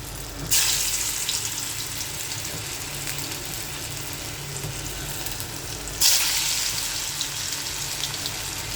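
Onions frying in hot oil over a low flame, a steady close hiss running throughout, with two sharper bursts of sizzle as more goes into the pan, no one speaking.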